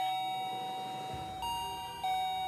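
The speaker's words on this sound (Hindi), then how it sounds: "शुक्र कर घंटी बज गई है" A doorbell rings indoors in a domestic drama, giving two or three clear chime tones in quick succession, fairly near and alone.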